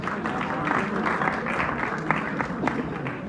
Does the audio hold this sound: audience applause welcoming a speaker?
yes